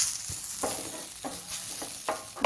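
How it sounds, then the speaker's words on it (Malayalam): Papaya thoran being sautéed in a pan with a ground paste of coconut, garlic and turmeric, a soft steady sizzle broken by several scraping stirs of a spoon. "ഇത് നന്നായിട്ടൊന്ന് വഴറ്റി കൊടുക്കാം"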